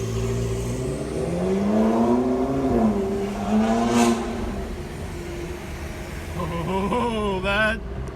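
A loud car with an aftermarket exhaust revs and accelerates past on a Beverly Hills street, its engine note climbing twice in rising sweeps over steady traffic noise, with a brief voice in between.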